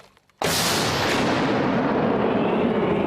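A sudden, very loud artillery blast after a brief quiet moment, followed by a long rolling roar that slowly fades.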